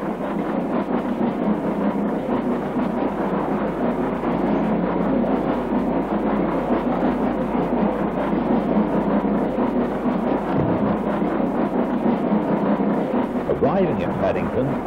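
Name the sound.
archive British Swindon intercity diesel unit train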